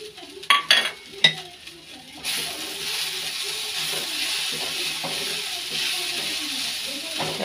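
Cooked greens with fried dried chilies stirred in a pan: a few sharp utensil clanks against the metal at first, then a steady, fairly quiet sizzle with soft scraping.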